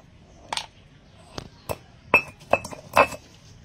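Conch-shell mineral (sangu pashanam) is worked in a mortar, giving a handful of sharp, hard clinks and taps spaced irregularly, close and fairly loud against a quiet background.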